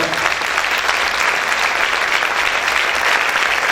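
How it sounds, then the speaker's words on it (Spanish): A church congregation claps loudly together during a service, a dense and continuous burst of applause that holds steady throughout with no voices over it. "Vamos a aplaudir fuerte al Señor"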